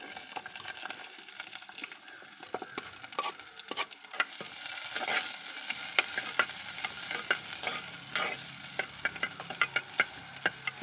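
Small onions and green chillies sauté in a pan for a vegetarian kurma, a close crackling sizzle broken by frequent sharp clicks and scrapes of stirring, growing busier toward the end; no speech.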